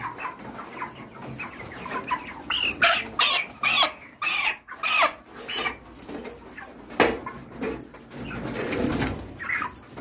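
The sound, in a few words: chickens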